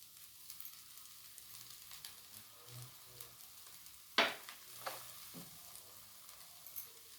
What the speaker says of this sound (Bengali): আমি কম আঁচে আস্তে আস্তে এটা কষিয়ে নিচ্ছি।